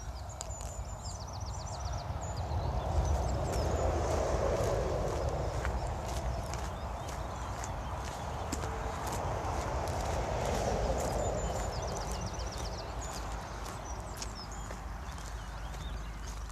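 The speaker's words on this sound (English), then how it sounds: "Some more horses." Several horses walk along a countryside path between Pony Dick and Orrell Water Park, their hooves clip-clopping in a soft, continuous rhythm at moderate distance, with birdsong and faint outdoor ambience around them.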